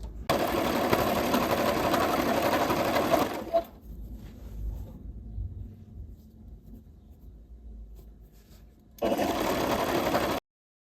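A sewing machine runs steadily while stitching French seams on the sides of a flared dress, first a sustained burst of a few seconds, then a quieter pause with faint handling noise, then another short steady run.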